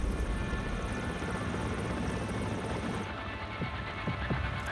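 Blackfoot gunship helicopters in the video game Tom Clancy's EndWar, a steady whirring rotor drone across the whole stretch, loud and close, thinning slightly near the end with a few brief low thumps.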